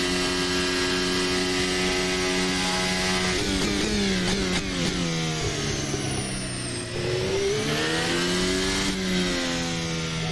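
A Formula Hybrid 2023 race car in a sim racing game revs loudly, then its pitch sweeps down and back up as the engine brakes into a corner, a continuous close mechanical drone.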